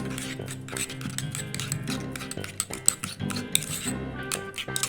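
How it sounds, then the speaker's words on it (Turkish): A slime mixture of Elseve shampoo and Dalin being stirred in a container, a busy run of small clinks, taps and wet scrapes, close and fairly quiet, without talk. "Karıştırıyoruz."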